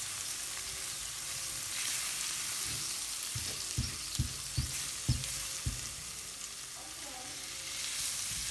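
Flour being stirred into garlic in a frying pan: a steady sizzle with a short series of spoon scrapes and knocks against the pan in the middle, no talking.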